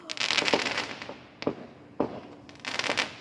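Fireworks burst outside in crackling clusters, a dense spray of pops at the start, two isolated sharp bangs midway, then another crackling cluster, moderately loud and close.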